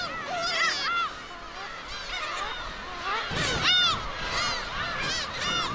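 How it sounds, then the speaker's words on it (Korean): Black-tailed gulls call on Dokdo island during breeding season, a dense chorus of loud, mewing and honking cries overlapping from several birds nearby, continuous with no talk. "번식을 위해 독도를 찾은 괭이갈매기"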